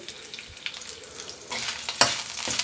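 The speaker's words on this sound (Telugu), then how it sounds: "వీటిని ఫ్రై చేసుకోవాలి ఈ ఎండుమిరపకాయలు బాగా వేగాలి" Dried red chillies and urad dal fry in hot oil with a steady close sizzle, then a louder, brighter crackle near the end as they are stirred, broken by a few sharp spatula clicks.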